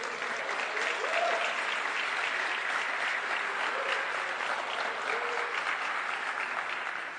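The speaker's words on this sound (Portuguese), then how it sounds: "você pode aplaudir o Senhor por isso?" Congregation applauding during a church sermon, a steady wash of many hands clapping at full volume with no pauses across the whole stretch.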